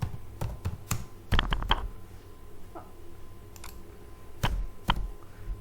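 Computer keyboard typing while writing an HTML heading, in short bursts of clicky keystrokes separated by pauses, close and moderately loud with no talking.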